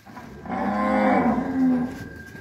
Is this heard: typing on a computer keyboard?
no